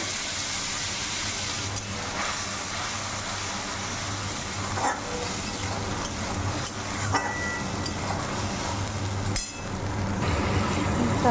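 Mustard paste with fish, green chillies, salt and turmeric is stirred in a hot pan, giving a steady oily sizzle with occasional scraping knocks of the spoon against the pan.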